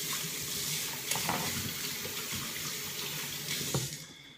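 Water runs steadily from a sink tap while hands are washed, a continuous close splash with small clatters and a slight surge near the end.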